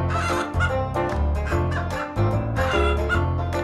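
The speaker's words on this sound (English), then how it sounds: "Thomas suddenly heard some other chickens." Chickens cluck in a quick series of bursts, close and fairly loud, a choppy run of short squawks and clucks with brief gaps between them.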